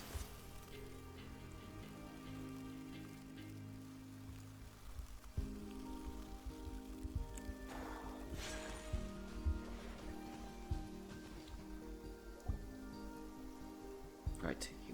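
Steady rain patters on surfaces throughout a scene in the video game Genshin Impact. A continuous soft hiss sits under game music and a few louder splashy hits.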